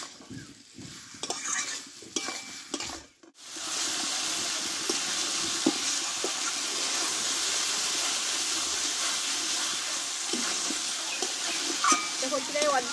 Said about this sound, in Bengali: আমি 7 থেকে 8 মিনিট মতো ধীরে ধীরে আমি কষে নেবো চিকেনটা